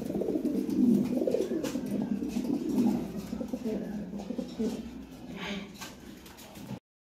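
A pair of cream-bar Lahori pigeons coo softly and repeatedly at close range, low murmuring calls rising and falling steadily with no talk over them.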